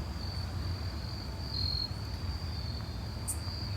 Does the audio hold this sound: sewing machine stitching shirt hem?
no